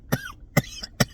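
Three short, rough coughs in quick succession, close to the listener, with brief pauses between them.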